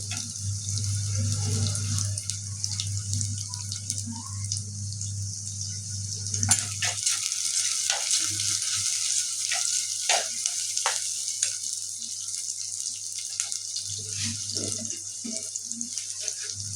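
Onions sauté in a pan with rock salt and crushed garlic, with a steady close sizzle, a low hum underneath and scattered stirring clicks throughout.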